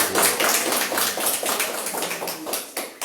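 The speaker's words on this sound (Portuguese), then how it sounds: "Dê para Jesus uma salva de palmas" Quick, uneven bursts of clapping from a church congregation applauding Jesus, close and fairly loud, overlapping into a steady patter for a few seconds.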